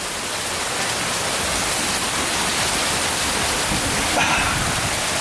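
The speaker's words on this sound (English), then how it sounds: "I don't know if y'all can hear this, but in Myrtle Beach it's like pouring right now." Heavy rain pours down outside in Myrtle Beach as a constant, loud, hissing downpour with no letup, heard close and alone.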